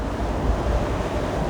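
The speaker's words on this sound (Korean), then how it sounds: "이 바다와 함께 이 바닷소리를 들으면서" Broadband ocean surf rolls steadily from the deck of a cruise ship at sea in the South Pacific, with wind rushing across the microphone throughout and no distinct breaks between waves.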